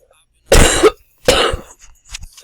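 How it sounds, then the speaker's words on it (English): Two close, harsh coughs in quick succession, followed by a softer throaty sound. "Sorry guys about that cough."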